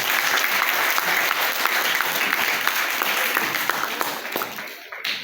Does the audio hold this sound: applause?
yes